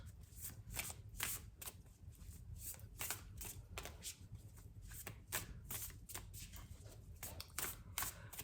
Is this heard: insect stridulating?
no